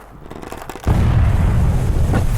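A sudden loud blast hits and leaves a sustained rumbling roar behind it, a big explosion in the game 7 Days to Die, with faint gunfire-like clicks before.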